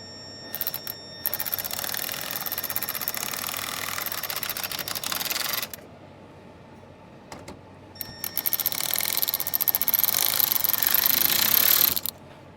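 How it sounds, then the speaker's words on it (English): A power tool runs in two long bursts of rapid, rattling buzzing while an emblem is fastened on a Ford Explorer ST, separated by a quiet gap, close and loud. "we're gonna go real slow with our power tool here"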